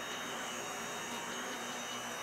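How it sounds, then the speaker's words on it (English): A Dyson V8 handheld vacuum cleaner runs with a steady, high-pitched motor whine and airy rush, constant and fairly close, with no voices. "We've also got this bad boy, which is the Dyson V8."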